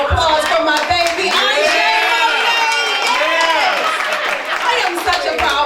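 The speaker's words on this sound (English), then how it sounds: "Y'all give a round of applause for my baby." A crowd at a Pillow Talk 2024 event claps and cheers for Dr. Chyna Bethley. The clapping is steady and close, mixed with whoops and excited voices throughout.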